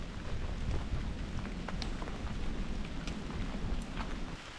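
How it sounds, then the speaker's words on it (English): Rain falls at the Glory Hole Falls trailhead in the Arkansas wilderness, a steady broadband hiss with scattered close drops tapping on surfaces and a low rumble beneath, with no voices. "It's starting to rain right now."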